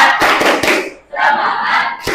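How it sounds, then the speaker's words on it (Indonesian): A classroom group claps in a rhythmic pattern and joins in a loud shouted chant, with sharp bursts of clapping between stretches of voices. The sound is close and energetic, with a brief pause in the middle. "kita tepuk semangat buat kita hari ini, ya. Tepuk semangat."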